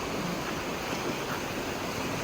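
A fast-flowing river swollen by days of heavy rain at Dudhia near Siliguri rushes in a loud, steady wash of water noise, with gusting wind buffeting the microphone throughout.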